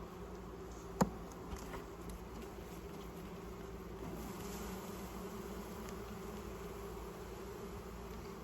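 Bees at a hive feeder on a homestead give a faint, continuous buzzing hum, with a single sharp knock near the start.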